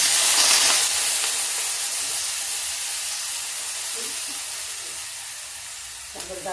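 Rice hisses and sizzles steadily in hot ghee for kheer, a broad frying hiss that fades slightly over the clip, with a brief clink near the end.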